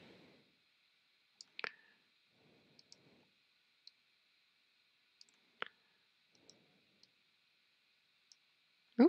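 A computer mouse clicks sparsely and faintly in a quiet room while points are placed with the pen tool in Adobe Illustrator, with single clicks and a few quick doubles spread irregularly across the stretch.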